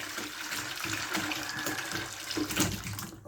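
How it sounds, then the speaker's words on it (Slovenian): Water splashes and runs as it is poured out of a container while animals are being fed, a continuous trickling wash with a few stronger gushes near the end, heard up close and without talk. "Malo vodo najprej stran odliti."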